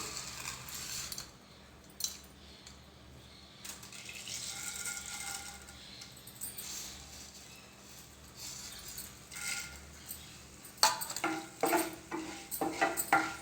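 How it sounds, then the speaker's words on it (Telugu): Coriander seeds roast in oil in a pan, a faint, low sizzle with soft stirring scrapes, ending in a cluster of sharper crackles and clinks from the seeds and utensil; nobody talks. "ఇప్పుడు ఇదే ఆయిల్ అదే ఆయిల్ వచ్చేసి మనం ధనియాలు వే వేయించుకుందాము"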